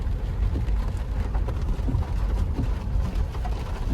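Steady rain falls in Vizag, a dense, even hiss with soft patter that runs unbroken for the whole stretch and sits fairly close.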